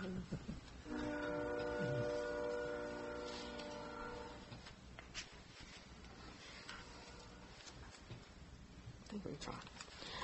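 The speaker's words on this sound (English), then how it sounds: "With that train goes by" A train passes near a city council meeting room in Bluff City. Its horn sounds in long blasts, then a lower rolling rumble carries on and slowly fades at a distance.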